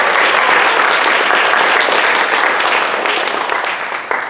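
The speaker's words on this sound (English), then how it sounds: "A round of applause for our great dancers." Steady, dense applause from an audience at a kindergarten graduation ceremony honoring dancers, loud and continuous before thinning slightly toward the end.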